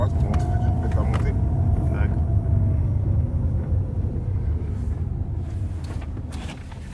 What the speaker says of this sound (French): Alors vous entendez là le bruit de la Bolloré